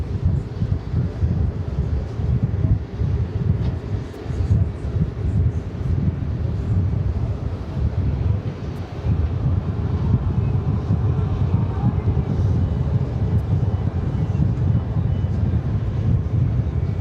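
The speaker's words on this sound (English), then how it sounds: "Listen to that wind." Steady wind roars across a microphone at JFK airport in New York, with a continuous low rumble that holds without a break and no voices.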